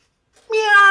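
A person imitates a cat meow during a tabletop role-playing game session, a single drawn-out, nasal mew rising after a brief silence.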